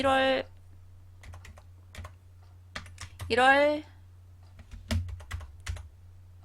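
Scattered keyboard key taps, a few at a time, with a short spoken phrase between them over a steady low hum.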